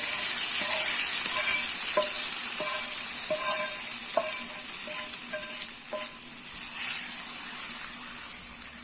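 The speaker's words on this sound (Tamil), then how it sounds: "இப்போ இந்த தாளிப்பை இந்த கூட்டில் போட்டுடலாம்." Tempering with curry leaves poured into a Salem-style brinjal and field bean kootu sets off a steady close sizzle with a few light spoon clinks, slowly fading, with no voices.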